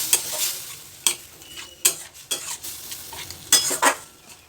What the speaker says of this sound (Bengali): আদা আর মশলাটাকে আমি ততক্ষণ ভাজবো যতক্ষণ না আদার কাঁচা গন্ধটা চলে যাচ্ছে